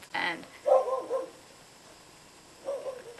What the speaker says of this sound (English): that's my dog, I'm sorry.